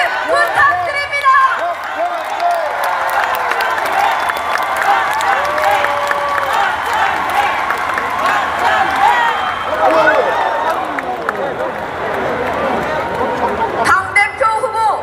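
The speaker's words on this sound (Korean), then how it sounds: "다시 한 번 더 뜨거운 박수 부탁드립니다." A large crowd at a Democratic Party leadership convention applauds and cheers in a loud, sustained roar, with amplified voices and hall noise mixed in and a brief lull near the end before the noise returns.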